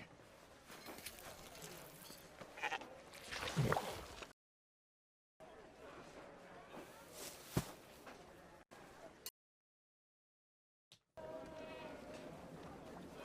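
Sheep bleat in an anime episode set in Mongolia, loud calls rising above background music and scene sound, broken by stretches of silence.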